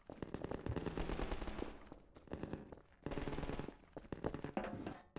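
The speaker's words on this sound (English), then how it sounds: "What is that sound in the background? Is that supposed to be like people shooting?" Background gunfire from the video game Half-Life 2: Episode 1: dense, sustained bursts of automatic fire, loud and continuous, broken by short lulls before resuming.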